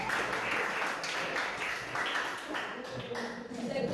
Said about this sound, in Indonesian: segera kita berikan tepuk tangan